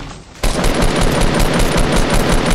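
Fortnite gunfire aimed at a tree: after a brief lull, a loud, close, continuous burst of rapid automatic shots, evenly spaced and running to the end without talk.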